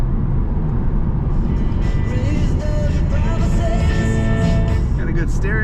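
2003 Chevrolet Corvette 50th Anniversary convertible cruising straight down the road, heard from inside as a steady loud engine and road drone with faint whine, while someone talks over it.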